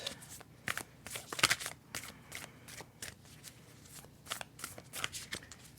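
Tarot cards shuffle by hand in a series of soft, close riffles and quick flicks, quiet and irregular, with no talking.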